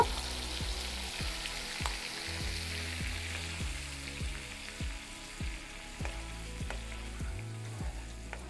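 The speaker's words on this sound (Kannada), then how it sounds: "ಎಣ್ಣೆಗ ಮಸಾಲೆ ಎಲ್ಲ ಎಣ್ಣೆಗ ಫ್ರೈ ಆಗ್ಯಾವ" Ground masala paste fries in oil for a paneer Afghani dish: a steady, soft sizzle with repeated scraping and stirring strokes from a spoon in the pan, close and alone.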